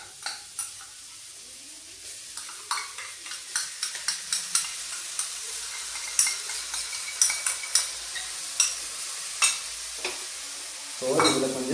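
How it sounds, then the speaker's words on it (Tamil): Ginger garlic paste fries in a pan with a soft continuous sizzle, while a spoon stirs and scrapes the metal in a run of sharp clinks and scrapes, ending in a louder burst of hissing. "ஸோ நம்ம இஞ்சி பூண்டு பேஸ்ட்டை போட்டுருவோம்."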